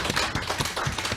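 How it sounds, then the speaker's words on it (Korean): Audience applause for a panelist at a Korean labor-politics forum reviewing the April 15 general election, a steady wash of many hands clapping, moderately loud and continuous, with no voices over it. "처절한 대안을 제시한 데 대해서 박수 한번 보내주십시오."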